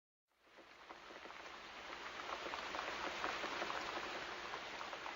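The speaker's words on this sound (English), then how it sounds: "Then it began to rain. It rained a lot" Steady rain pours down, a dense pattering hiss that swells in after a brief silence and stays loud and even throughout.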